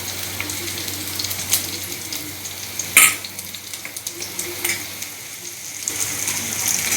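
Chili and garlic sizzle in hot oil in a pan for a chili soyabean dish, a steady close crackling fry with a few sharp clinks and scraping stirs.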